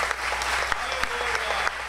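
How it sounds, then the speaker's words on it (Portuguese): A church congregation claps steadily and loudly, a dense wash of applause that holds throughout with a few sharper claps standing out. "forte salva de palmas para o Senhor Jesus."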